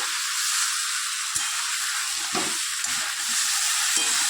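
Mixed vegetables sizzle and fry with ground spices and reduced chili powder in a pan for a Bengali shaat jhol curry, a steady close hiss broken by a few soft stirring scrapes.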